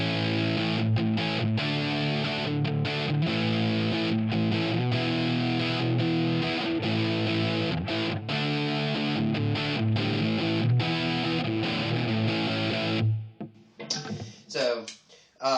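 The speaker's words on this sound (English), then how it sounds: "So let's push that rock distortion with the MXR." Electric guitar plays rock chords through a distorted tone boosted by an MXR Micro Amp pedal, loud and sustained with rhythmic chops, ending in a few fading, choppy strums.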